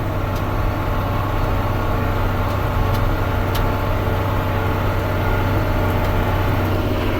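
A tractor engine runs steady and close as it shifts down and slows for a stop, a continuous low rumble with a constant hum throughout.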